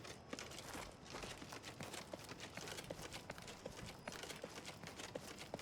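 A horse's hooves clip-clop in the video game Skyblivion, a quick, steady trot of faint, soft thuds.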